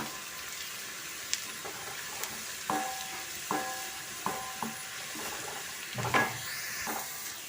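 Onions and curry leaves frying in oil in a pan for a bottle gourd and dried prawn curry tempering, a quiet steady sizzle broken by a handful of light metallic spoon taps and one louder stir near the end.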